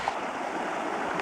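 Steady broadband rush of creek water flowing past, a continuous close wash of moving water with no talking over it.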